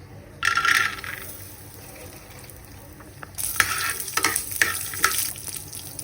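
Peanuts frying in oil on a hot tawa for Maharashtrian thecha: a sizzling hiss that comes in two bursts, the second longer with crackles and stirring scrapes, heard close up and alone.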